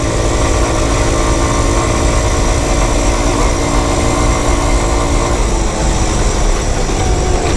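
A Honda Postie motorcycle's small single-cylinder engine runs on a ride up Mount Samaria, a loud, steady buzzing drone with a constant tone that holds evenly for several seconds, close by and without talk.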